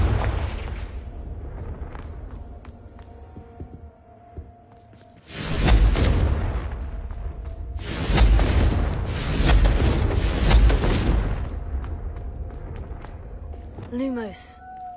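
Repeated blasts of the Confringo fire spell in Hogwarts Legacy, several loud booming explosions with rushing, roaring tails in close succession, while a player talks in between.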